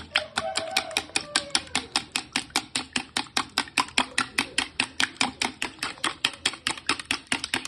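Two eggs beaten briskly in a bowl with a whisk, a fast, steady run of sharp clicking strokes against the bowl, close and clear, continuing without pause and with no talk.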